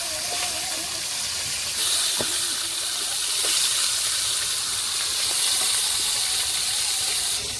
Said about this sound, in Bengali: ওইদিকে মাছটা ভাজা হতে লাগুক